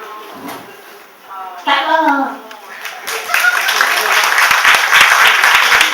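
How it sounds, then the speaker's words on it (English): Applause at a comedy awards ceremony begins after a short stretch of speech, building into a broad, fairly loud wash of clapping from the crowd that carries on to the end. "Please give yourself a round of applause"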